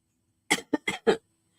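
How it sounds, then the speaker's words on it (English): A person coughs four times in quick succession, close and fairly loud, the bursts separated by short pauses with silence before and after. "I still have my cough, so I will be coughing"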